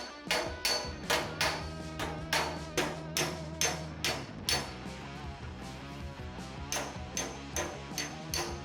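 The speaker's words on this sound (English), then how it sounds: "I start by working on the obvious bends and tackling the major dents with a hammer and dolly." Steel hammer blows on a dolly ring out while dented, previously painted truck bed panels on an old rusty truck are straightened, roughly two sharp metallic strikes per second in a steady rhythm, loud and close.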